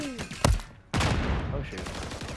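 A burst of video game gunfire rattles out, a sharp crack followed by rapid repeated shots over busy game noise, with voices talking nearby.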